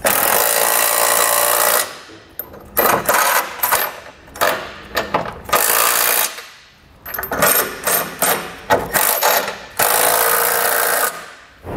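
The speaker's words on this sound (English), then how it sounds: "now we come back with a 3/4-inch socket and snug everything down." A ratchet with a 3/4-inch socket snugging down trailer hitch bolts on a 2016 Subaru Forester, rapid close clicking bursts in repeated strokes with short pauses between.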